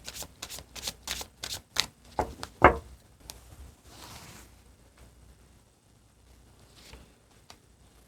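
Tarot cards shuffled by hand in a quick series of crisp riffling flutters, then a few single cards slid out and set down before the room goes quiet.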